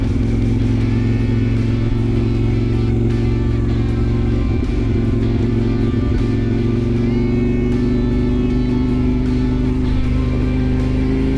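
A CFMoto Ibex 800T motorcycle rolls along a freshly graveled road, its engine droning loud and steady throughout with slight rises in pitch and a rough, clattering texture underneath.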